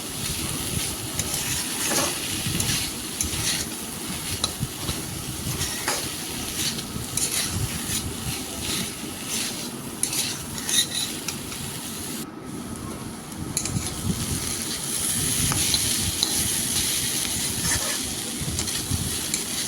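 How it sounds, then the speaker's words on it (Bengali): Chopped banana flower sautéing and being stirred in a pan with salt and turmeric, a steady soft sizzle with intermittent scraping strokes of the spatula, close and continuous with no talk. "পরিমাণ মতো লবণ হলুদ আর লবণ দেওয়ার পর আরও প্রায় পাঁচ সাত মিনিটের মতো আমি মোচাটাকে কষিয়ে নেবো"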